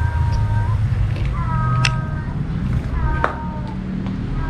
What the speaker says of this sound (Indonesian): Ada suara kucing gak sih?